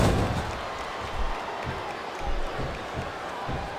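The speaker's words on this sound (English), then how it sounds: "I think these superstars are getting some feedback from the crowd, JR." A crowd cheers in the wrestling video game SmackDown vs Raw 2007, a steady roaring arena wash with occasional swells and thuds, heard at moderate distance without clear speech.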